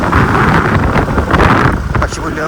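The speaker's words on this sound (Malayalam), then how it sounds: "നല്ല കാറ്റുണ്ട് അടിപൊളിയാണ് ഇപ്പം മഴ മഴയായതുകൊണ്ട് നല്ല കാറ്റുണ്ട്" Strong rainy-season wind at a seaside spot, a loud continuous roar buffeting the microphone with no break.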